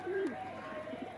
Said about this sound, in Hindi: इतने ज़्यादा कबूतर परेशान हो रहे हैं उस दाने के लिए